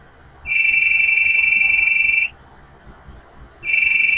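A phone rings insistently in a horror video game: a loud, steady electronic trill lasting nearly two seconds, a brief pause, then the ringing starts again.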